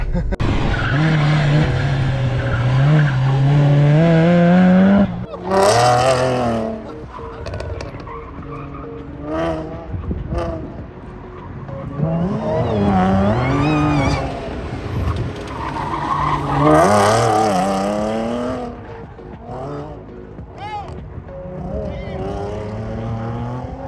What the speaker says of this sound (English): sliding all over the fucking place